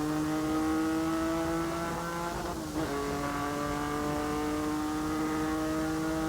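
A Porsche race car engine roars steadily at high revs at full throttle in fifth gear on a descending straight, loud and sustained, with a brief dip partway through before the drone continues.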